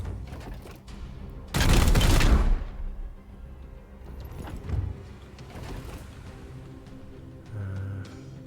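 Gunfire in Warhammer 40,000: Chaos Gate lets out one loud, roaring burst of shots lasting about a second and a half, followed by fainter, scattered bangs and impacts.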